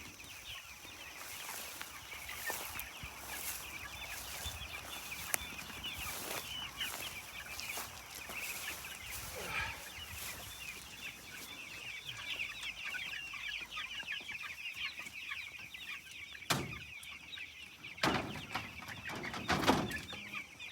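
Chickens cluck steadily on open pasture, a continuous chorus of hens near and far with occasional louder calls close by and a faint crow, no talking.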